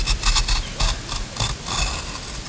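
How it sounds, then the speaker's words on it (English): Digging into rock-hard ground on a Civil War battlefield at Cold Harbor, Virginia, with close, repeated scraping and grinding strokes in an uneven rhythm. "I'm digging through concrete."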